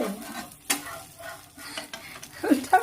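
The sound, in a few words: omelette frying with bread in a pan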